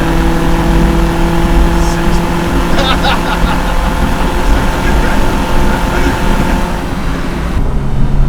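A supercharged Subaru Sambar kei truck engine drones loud and steady from inside the cab, holding high revs with a constant whine as people talk over it.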